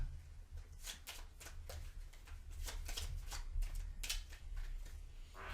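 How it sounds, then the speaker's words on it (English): Someone shuffles a deck of game cards during an ELO Darkness card game. A run of soft, repeated riffling bursts sounds close but quiet, with no one talking. "we'll do a quick shuffle of the deck"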